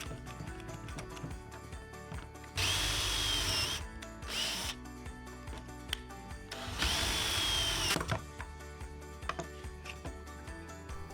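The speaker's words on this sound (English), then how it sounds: "I'm drilling 2 pocket holes on both ends of the side pieces" A power drill bores pocket holes through a Kreg jig into wooden dresser base side pieces, in two loud bursts of high whining drilling with quieter workshop handling in between.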